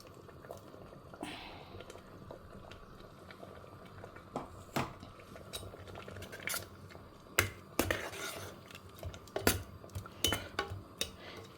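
Metal utensil scraping and knocking in a pot while spinach and dal are mashed and a ground paste is stirred in, irregular clinks and soft squelches, close and moderately quiet.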